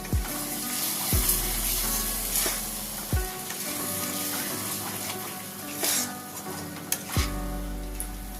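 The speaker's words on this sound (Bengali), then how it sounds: "আবারও নাড়াচাড়া করে ভালো করে ভেজে নেব।" Ground cashew paste sizzles and fries in hot oil while a spoon stirs and scrapes the pan, with several distinct scraping knocks over a continuous crackling hiss.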